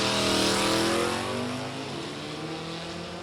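A 1995 Ford Escort race car roars past on an oval track, loud and close at first, then its buzzing engine note drops in pitch and fades as it pulls away.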